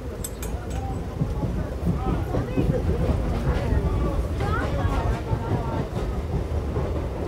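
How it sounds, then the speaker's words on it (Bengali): A train rumbles and clatters as it pulls into a station, with a steady low roar and brief high metallic squeals, while people talk over the noise. "এখন ট্রেনটা দাঁড়াবে।"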